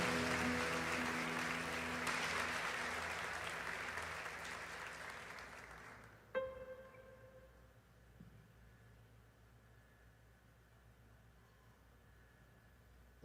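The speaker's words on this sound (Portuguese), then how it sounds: "Você pode aplaudir ao Senhor nesse lugar" A church congregation applauds during a worship service, a dense wash of clapping that holds steady for about six seconds and then stops abruptly, leaving a quiet room with faint background hum.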